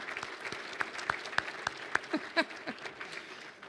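An audience at a hospice benefit event applauds two county commissioners from Washington County with thin, scattered claps, fairly faint and uneven, with a few sharper hits standing out.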